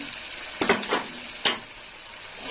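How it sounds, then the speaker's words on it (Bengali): Spices, turmeric and green chili paste fry in a pan with a constant hiss. A few sharp spoon-stirring scrapes come close together near the start, then a single stir follows, and there is no talk. "দিয়ে দেবো কাঁচা লঙ্কা বাটা, কাঁচা লঙ্কা বাটা দিয়ে দিলাম।"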